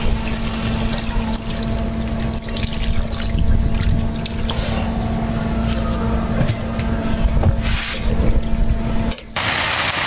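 Water is poured into a pan of pork liempo adobo simmering on the stove, giving a steady, loud rush and hiss that runs unbroken for about nine seconds before a brief break.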